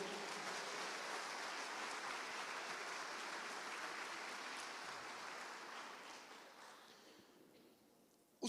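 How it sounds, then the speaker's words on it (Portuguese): Church congregation applauding during a sermon, a dense sustained clapping that fills the room and slowly fades out toward the end. "Você pode dar uma salva de palmas para o Senhor?"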